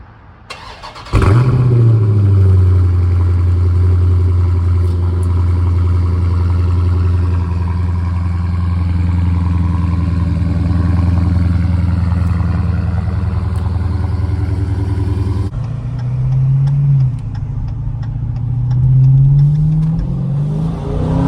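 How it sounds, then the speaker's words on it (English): A Dodge Charger Scat Pack on its stock exhaust fires up abruptly and holds a loud, deep, steady rumble. The note drops briefly, then rises again in a rev near the end. "In case y'all didn't know what it sounded like on the stock exhaust."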